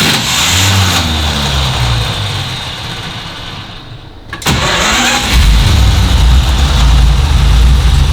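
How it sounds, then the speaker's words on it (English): A 1932 Pierce Arrow engine cranks briefly, goes quiet for a moment, then catches and settles into a loud, steady low idle close by. "So you just ignition on and then hit your start button."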